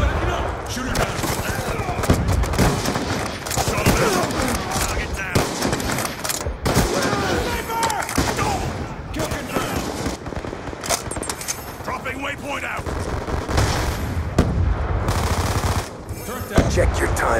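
Dense automatic gunfire and bursts from a Black Ops 2 multiplayer match roar almost nonstop, loud and close, while a voice keeps talking over the shooting.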